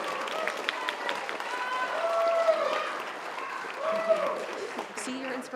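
An audience at a school orchestra concert applauds, the clapping moderate and steady with a few whoops and voices rising over it before it thins out.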